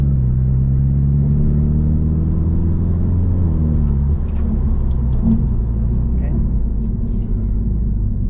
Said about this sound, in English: you guys can hear the sound of the car with the windows down